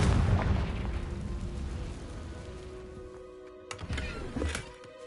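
A Confringo blasting spell in Hogwarts Legacy bursts loudly at the start, followed by a rumbling decay and two more sharp pops near the end, with no talking.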